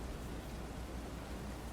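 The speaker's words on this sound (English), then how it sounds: "The rain is heavy for all of" Steady heavy rain pouring continuously, a dense even hiss of falling water with no gaps, fairly faint and without talk.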